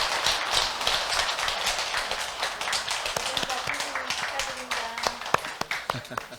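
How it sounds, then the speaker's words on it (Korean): Applause rises from an audience at a Buddhist dharma ceremony in a hall, dense steady clapping that thins into scattered claps toward the end, with a voice speaking over it. "축하의 큰 박수 부탁드리도록 하겠습니다."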